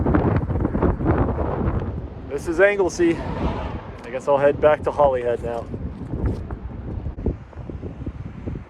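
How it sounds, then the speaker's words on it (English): Strong wind buffets the microphone with a constant low roar at Holyhead on Holy Island, Anglesey, Wales, while someone speaks briefly over it. "It's very windy."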